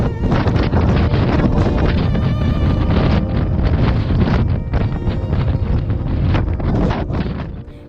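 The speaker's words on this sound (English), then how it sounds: "braved the terrific wind to enjoy the last view of Lago Grey and the Grey Glacier" Strong wind blasts at the top of a climb in Torres del Paine, Patagonia, buffeting the microphone with loud, continuous roaring gusts for the whole stretch, no talk.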